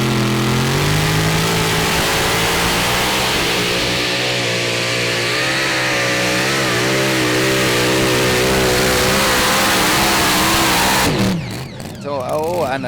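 A pulling tractor from Holland roars through a full pull at a 2016 Eurocup tractor pulling event in Brande, Denmark, its loud sustained engine rising and wavering in pitch before cutting off abruptly near the end, with an announcer talking over it.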